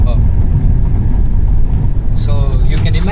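A BMW 320d diesel sedan engine revs hard under heavy throttle while accelerating in city traffic, a loud continuous engine and road roar with a rising tone near the end and a voice talking over it.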